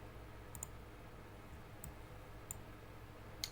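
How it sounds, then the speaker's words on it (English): Several sharp mouse clicks at an irregular pace, near and faint, while opening a link on a file sharing database server, set against a quiet low hum. "Let's try clicking into this"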